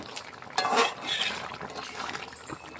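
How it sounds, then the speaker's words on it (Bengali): Spices stirred into a simmering pan of cooking food, a brief scraping swirl of a spoon against metal with soft sizzling underneath, close and moderately quiet. "তাই আমি একটু মশলাটা দিয়ে নেড়ে চেড়ে দিলাম"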